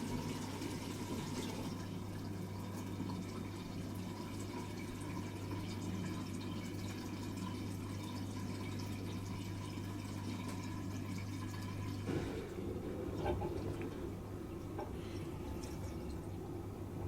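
A Bosch dishwasher drains water in service mode with a low steady pump hum under gurgling, trickling water that shifts to a looser splashing flow near the end. No one speaks.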